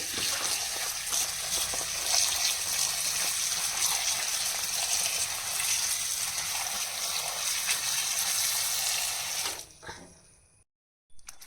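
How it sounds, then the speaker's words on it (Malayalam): Water gushing steadily from a tap while jackfruit is washed, a loud, close, unbroken rush lasting about nine seconds before it cuts off, followed by a faint splash. "ചക്ക കഴുകുക."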